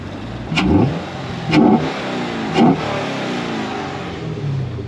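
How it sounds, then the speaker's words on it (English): A Chevrolet Camaro SS engine revs hard three times in quick succession, heard at the intake, each burst rising and falling, with a steady idle rumbling between. "let's see if we can hear the intake"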